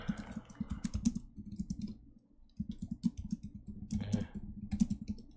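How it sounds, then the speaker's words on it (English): Rapid, dry clicking of computer keyboard keys pressed under a notepad laid on top, coming in quick bursts with a short pause near the middle, close and fairly quiet. "my typing is terrible because I have a notepad in front of me on the keyboard"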